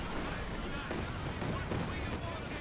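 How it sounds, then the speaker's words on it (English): Fisher artillery barrage in the Company of Heroes 2 strategy game, a dense, continuous roar of rapid shell impacts and explosions filling the whole stretch, loud and unbroken. "Fisher Barrage comes on in."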